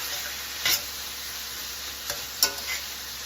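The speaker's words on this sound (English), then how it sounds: "A good sized pinch of dried oregano. Mix in those seasonings." Beef and sausage fry with a steady sizzle while seasonings are stirred in, with a few soft scrapes of the utensil over the constant hiss.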